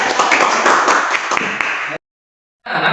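A classroom of students claps hands together in a loud, close, dense burst that cuts off abruptly, then resumes after a short silence.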